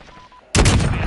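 Cruise missile strike in Call of Duty Modern Warfare, a sudden loud, broad blast cutting in after a quiet moment and holding as a heavy rumbling roar.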